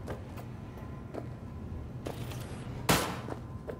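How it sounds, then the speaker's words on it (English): Distant gunshots echo from a firing range in Cyberpunk 2077, a few scattered reports over a steady low hum, with one sharper, louder crack near the end. "I wish we wouldn't hear the gunshots, though"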